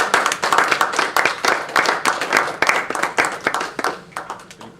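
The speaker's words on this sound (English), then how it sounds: "Now with all this applause and well-deserved kudos" Audience applause after a talk, a modest group of people clapping steadily at close range, with individual claps distinct and rhythmic throughout.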